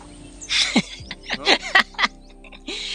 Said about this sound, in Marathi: आता मात्र पक्ष्यांचा आवाज भरपूर झाला